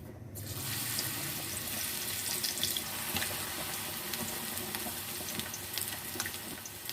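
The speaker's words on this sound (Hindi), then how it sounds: "ऑयल गर्म हो चुका है, ऑयल में हम पकौड़ों को फ्राई कर लेते हैं।" Egg pakoras frying in hot oil, a steady, dense crackling sizzle that holds evenly from start to finish with no talk over it.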